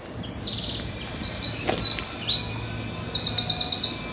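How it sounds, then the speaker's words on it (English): A wren sings in a cemetery with trees, delivering bright, rapid trilling phrases of high chirps in repeated bursts, fairly close, over a steady low rumble of construction noise in the background. "Nice to hear the wren singing here,"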